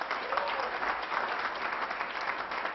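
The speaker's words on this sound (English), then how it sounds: "Please give them a huge round of applause." A seated audience at a valedictory event claps for the guests, a thick continuous wash of applause that holds steady throughout, with no speech over it.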